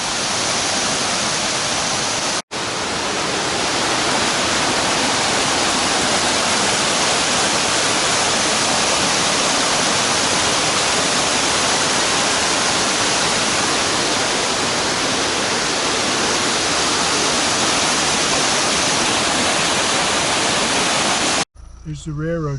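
Water gushes out of a cave in a mountainside at Cumberland Gap, roaring as a loud, steady, broadband rush close by, with a brief break near the start and end.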